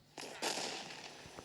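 A grenade bursts in a video game, a short muffled blast with a crackling tail and a smaller pop after, heard at moderate distance.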